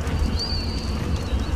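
A pigeon mount in a video game coos softly. The cooing sits on top of a steady low rumble of game ambience, with no voices.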